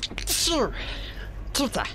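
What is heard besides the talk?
sneeze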